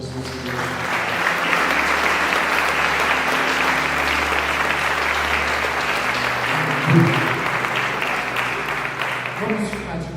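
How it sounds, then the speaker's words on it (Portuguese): A church congregation applauds at a service, a dense, steady wash of clapping from many hands that fills the room evenly and holds for about ten seconds. "Vamos aplaudir o Senhor Jesus."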